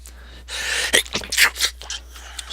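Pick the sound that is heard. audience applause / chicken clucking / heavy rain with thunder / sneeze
sneeze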